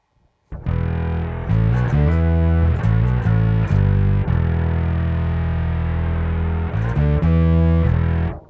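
A sustained, buzzy synth-like tone from an effects pedal, loud and continuous, with a few stuttering note changes near the start and end.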